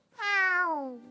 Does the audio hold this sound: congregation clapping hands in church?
no